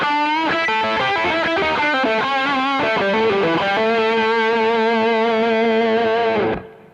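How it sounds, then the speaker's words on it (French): Electric guitar through an overdrive/saturation pedal, with a Line 6 HD500X in the amp's effects loop, plays a run of distorted notes and then holds a sustained chord that rings out and cuts off near the end. "Puis une pédale de saturation, là encore ça ne se fait pas en principe"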